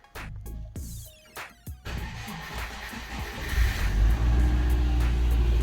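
A Subaru Forester engine cranks with a few clicks and catches, then settles into a steady running drone that grows fuller over several seconds, heard up close with no talk.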